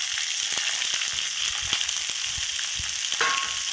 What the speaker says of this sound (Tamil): போட்டாச்சு நல்லா பொறிஞ்சிட்டோம்